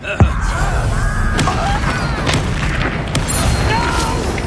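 Confringo explosive spell in Hogwarts Legacy, a loud booming blast near the start followed by further impacts and crackling combat effects, with voices speaking over the clash.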